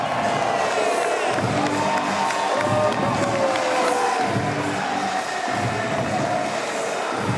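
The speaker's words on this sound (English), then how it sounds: "The crowd are going wild." A large crowd cheers and whoops at a men's water polo match between South Africa and the USA after a goal, a loud, continuous roar sustained throughout with shouting voices mixed in.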